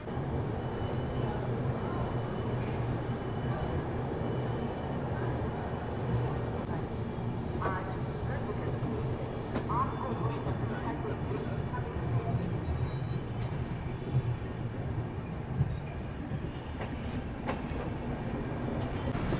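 Aboard the 20504 New Delhi–Dibrugarh Rajdhani Express near Varanasi, a steady low rumble of the moving train carries on throughout, with faint rail clatter beneath it.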